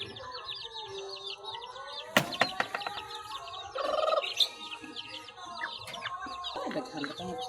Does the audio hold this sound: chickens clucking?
yes